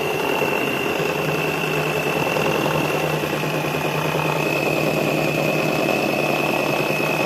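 An electric mixer beats orange cake batter made with maida and baking powder, giving a loud, continuous motor whir with a steady high whine. The sound is unbroken and close.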